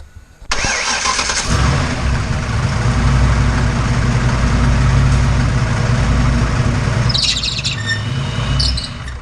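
A race car engine cranks and fires with a sudden loud bark, then settles into a rough, throbbing idle that stays strong and close throughout, with faint chirps in the background.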